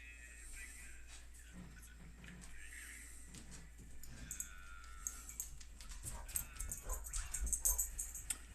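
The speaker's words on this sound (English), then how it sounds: "Sorry, the dog was barking at nothing." A pet dog named Mercury barks and whimpers indoors during a miniature-building session, a few short, fairly faint yelps mixed with clicking and tapping at a workbench, growing busier toward the end.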